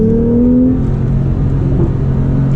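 A 991.2 Porsche 911 in sport mode revs hard while driving, the loud cabin-heard engine note sweeping up and then holding a steady whir as the car pulls.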